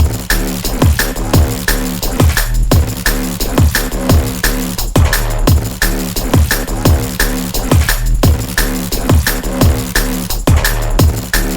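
A loud drum and bass track with fast punchy drums over a heavy, shifting bass line, driving and continuous throughout.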